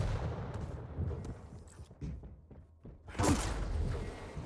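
Railgun shots ring out during a Quake Pro League match, a few sharp cracks scattered over busy in-game noise, with one louder, bright burst near the end.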